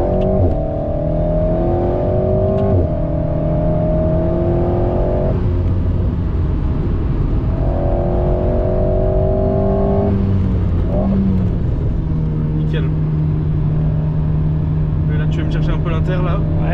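Alpine A110S with aero kit accelerating hard around the Clastres circuit, engine note climbing through gears with rising and falling whine, loud and close from inside the car, with people talking over it.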